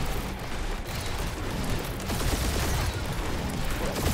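Turret gunfire roars continuously inside an enemy ship in the Guardians of the Galaxy video game, a dense, loud barrage of rapid shots and booms with no pauses, filling the whole stretch.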